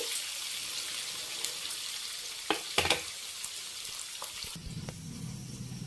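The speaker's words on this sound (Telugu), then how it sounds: "బాగా ఏగాలండి పచ్చి పచ్చి ఉండొద్దు" Ponnaganti greens fry in a pan with a steady, close sizzle and occasional clicks of stirring.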